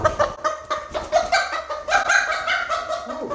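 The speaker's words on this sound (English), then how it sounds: "Why are you clucking so much?" A silky rooster clucks repeatedly in short, close bursts, with faint background voice and farmyard noise around it.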